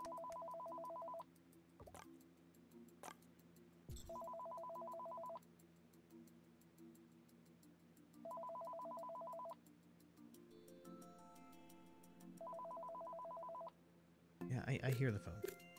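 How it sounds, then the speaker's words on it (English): A phone rings in a VR office video game, with four evenly spaced electronic ring bursts over a quiet background, then a louder burst of game noise at the end. "I hear the phone."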